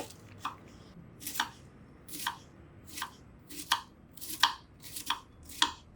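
A knife chops cabbage into small pieces on a board, giving about ten crisp, moist cuts in an irregular rhythm, close and fairly quiet with no voices.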